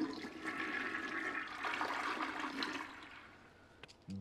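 A cartoon toilet flushes in a long, steady rushing swirl of water that fades into trickling, ending with a short thump and clunk; no one speaks over it.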